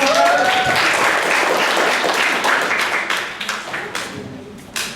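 A classroom of students applauds a student group, a dense burst of clapping from many hands that starts full and gradually thins and fades, with a little voice at the very start.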